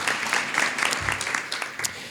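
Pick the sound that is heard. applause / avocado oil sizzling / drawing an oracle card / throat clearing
applause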